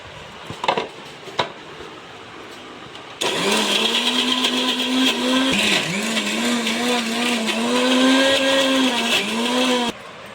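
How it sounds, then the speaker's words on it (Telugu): A kitchen mixer grinder whirs loudly for about seven seconds, blending bitter gourd pickle masala, starting abruptly after a few faint knocks and cutting off sharply, its motor pitch dipping briefly as the load shifts. "ఒక 2 చుట్లు మిక్సీలో వేస్తా ఉన్నాను"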